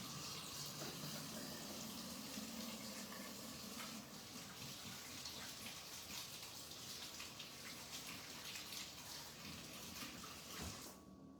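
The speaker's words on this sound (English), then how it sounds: "Let me just wash my hands here and grab a wipe." Tap water runs steadily into a kitchen sink as hands are washed beneath it, a continuous close hiss and splash lasting the whole stretch before cutting off at the end.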